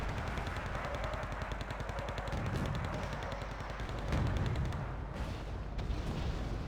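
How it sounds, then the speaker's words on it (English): Sustained mortar and artillery barrage in the war strategy game Wargame: Red Dragon, a dense run of booming impacts and rattling fire, loud and continuous. "I'm just mortaring this area to make sure"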